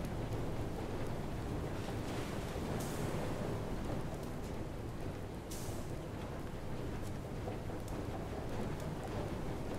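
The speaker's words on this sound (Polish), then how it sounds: "A bo to jakieś nowe fale są." Ocean waves wash around a boat in the video game FAR: Changing Tides, a steady surging roar with wind, punctuated by two brief sharp splashes or gusts.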